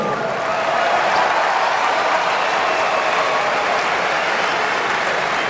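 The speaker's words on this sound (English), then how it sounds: "Receives a nice hand from the Garden crowd" Madison Square Garden crowd applauding steadily for Paul George as he checks into a Knicks game, a dense, sustained wash of clapping filling the arena without pause.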